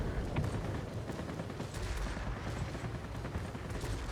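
Aircraft cannon fire from a fighter plane in the World of Warplanes game, a steady, dense rattle of rapid shots with no talk over it.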